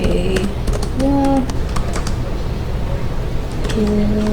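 Slow, irregular keystrokes on a computer keyboard, a handful of separate clicks spread apart, close and clear with a voice talking alongside.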